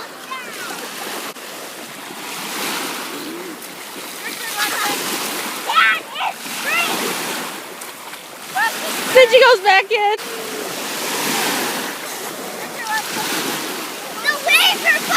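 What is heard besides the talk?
ocean waves breaking on a beach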